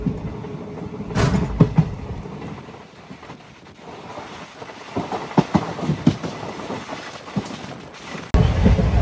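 A passenger train with ICF coaches runs at about 110 km/h on the Narasapur to Arunachalam route through the Godavari districts, a steady rumbling roar with sharp clunks and bursts of wheel and coach noise.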